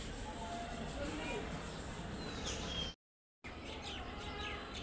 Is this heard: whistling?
no